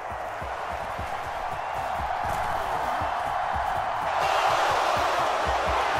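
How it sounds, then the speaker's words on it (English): Home crowd in the Madden NFL 23 football video game applauding and cheering, a steady dense roar of stadium noise that swells slightly louder toward the end, with no clear speech. "And the home crowd applauding."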